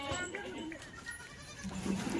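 Goats bleat in a farm shed where pregnant does stand tethered in a row, their calls brief and overlapping against steady background noise.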